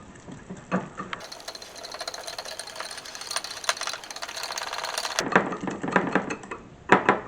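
Egg yolks with sugar and a pinch of salt are whisked for creme brulee, a quick rhythmic clatter and scrape of the whisk against the bowl, close and fairly quiet, with a faster steady burst in the middle.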